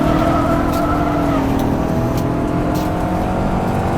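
A BMW M5 drifts in the rFactor2 racing sim, its engine holding a steady, loud drone while the tires squeal continuously beneath it, with no pause across the run.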